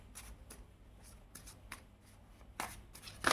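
Tarot cards being shuffled and drawn by hand, giving a series of soft, close riffling and flicking bursts with a louder shuffle near the end, quiet and with no talking.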